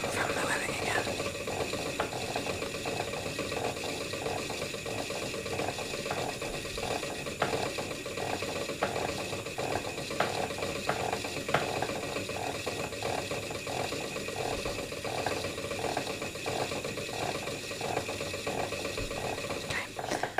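Steady soft clicking from a spinning wheel as yarn is spun, an even rhythmic ratcheting tick running continuously at close range over a faint whispery hiss, with no other sounds.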